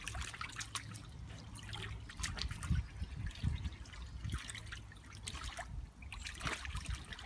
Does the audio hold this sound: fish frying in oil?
no